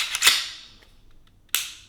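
A Shadow Systems MR920 pistol trigger is dry-fired, giving two sharp, close metallic clicks more than a second apart, each fading quickly into quiet, with no talking.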